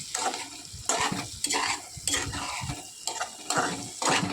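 Fried prawns stirred through sizzling masala for a Bengali coconut-milk prawn malai curry, giving a loud, close sizzle with rhythmic scraping strokes about every half second and no talking.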